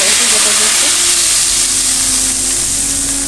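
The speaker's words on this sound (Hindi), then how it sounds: "अब इसमें रेड चिली पाउडर 1 टीस्पून डालेंगे, मिक्स करेंगे और इसके ऊपर तड़का लगा देंगे" A loud, continuous hiss of hot oil tempering poured over chicken haleem with red chili powder fills the clip, with faint tonal hums underneath and no speech.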